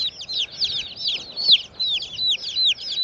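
Hens of a laying breed, including amber link birds, cluck and chirp in a steady run of bright, close calls with no talk.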